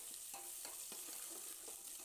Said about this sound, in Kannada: ಒಂದು ಪಾತ್ರೆ ಇಟ್ಟು ಎಣ್ಣೆ ಹಾಕಿ 2 ಚಕ್ಕೆ ಪೀಸು, ಒಂದು ಸ್ಟಾರ್ ಹೂವು, ಈರುಳ್ಳಿ ಸಣ್ಣ ಕಟ್ ಮಾಡಿರೋ ಈರುಳ್ಳಿ